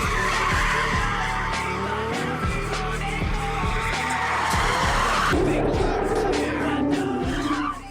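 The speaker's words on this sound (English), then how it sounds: "mostly rocking Tourer Vs, who came here to do some drifting" Toyota Tourer V cars drifting, tires skidding and squealing loudly and continuously with engine roar, repeated sharp pulses as they slide, close by and dominant throughout.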